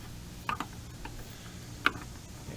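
A plastic trim clip is pried out on a Nissan Cube near the rear side marker light, giving a few sharp, close plastic clicks and snaps against quiet background.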